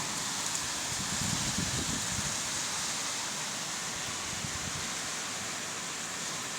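Steady, even hiss of rain falling, continuous and fairly soft, with faint low rumbles underneath and no voices.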